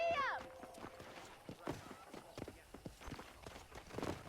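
Horse hooves clip-clop in the Red Dead Redemption video game on Xbox 360, a run of light, irregular footfalls at moderate distance heard beneath game dialogue and a brief tonal sound at the start.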